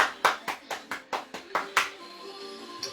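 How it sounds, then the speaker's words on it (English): Seven sharp hand claps in an uneven burst over the first two seconds, fairly close, then a fading tail with a faint tap near the end, at the end of a home abs workout. "Round of applause for you"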